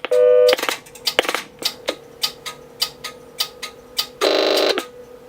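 A Sage 930A telephone test set dials its own number: a few DTMF tone bursts and a string of sharp, regularly spaced clicks, then another long tone burst near the end, with no voices.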